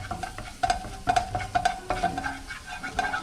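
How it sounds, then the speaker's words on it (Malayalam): A spoon scrapes and stirs a thick cream sauce in a pan, breaking up lumps, with a soft bubbling undertone and a series of sharp clinks and scrapes that come close and clear, with no talking. "നന്നായിട്ട് എൻ്റെ കട്ടയെല്ലാം ഉടച്ച് അങ്ങനെ നന്നായിട്ടൊന്ന് വേവിച്ചെടുക്കും"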